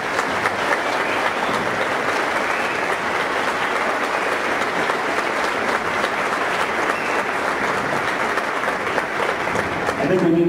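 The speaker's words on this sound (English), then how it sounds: "Let's give one more round of applause." Sustained applause from an audience at an elementary school Christmas concert, a dense, steady roar of many hands clapping filling the room, loud and unbroken throughout.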